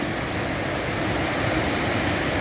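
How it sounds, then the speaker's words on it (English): Broad, steady rush of water flowing at Nymph Falls on a windy, cold day, a dense unbroken roar filling the whole clip with no voices. "there's a lot of water flowing today"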